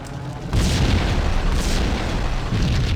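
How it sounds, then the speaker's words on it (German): A rigged building explodes in the Max Payne video game, a heavy booming blast that swells suddenly and rumbles on loudly with a second surge, no voices over it. "The building was rigged with explosives."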